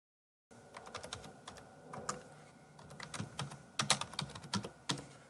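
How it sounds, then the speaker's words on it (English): Rapid, uneven keyboard typing clattering nearby, with bursts of keystrokes and brief pauses, no voices. "So I'm going to start typing it now"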